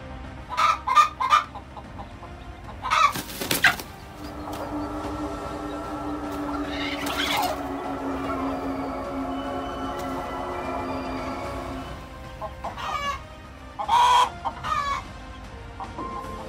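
A hen guarding its eggs from a snake gives short, sharp clucks and squawks in scattered bursts over a steady outdoor background hum, fairly close and moderately loud.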